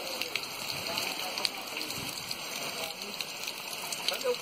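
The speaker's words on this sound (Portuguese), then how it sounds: "A chuva veio aí." Steady rain hiss with scattered drop patters, fairly close, continuing for the whole stretch with faint background murmur.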